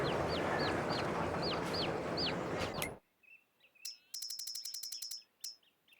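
Chickens in Farming Simulator 22 give a run of rising calls over steady farmyard ambience, then after a cut come sparse chirps and a rapid, repeated clucking burst, fairly close and without talk.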